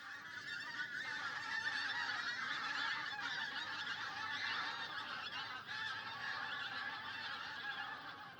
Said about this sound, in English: when the geese first come back, that cackling noise just lifts the hairs on the back of my neck